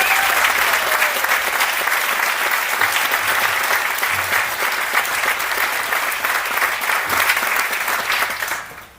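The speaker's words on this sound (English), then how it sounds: "Let's give another round of applause to all our honorees tonight." Sustained, loud applause from an audience at an awards celebration fills the whole stretch, steady throughout before fading out at the very end.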